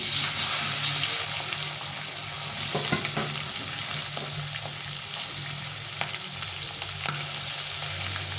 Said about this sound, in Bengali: মাছটা একবারে দিয়ে দেবো যে কটা মাছ আছে একবারে ভেজে দেবো